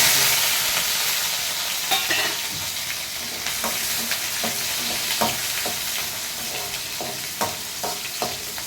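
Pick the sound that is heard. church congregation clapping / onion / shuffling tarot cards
onion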